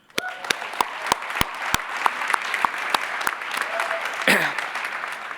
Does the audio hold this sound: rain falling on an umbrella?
no